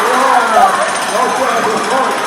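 A person vocally imitates a jackhammer breaking up concrete, a loud, continuous buzzing rattle kept up for a couple of seconds at an after-prom event with a crowd around.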